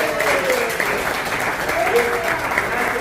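Steady, dense applause fills a press congress hall as an audience claps for a co-founder, loud and continuous throughout with a faint voice underneath.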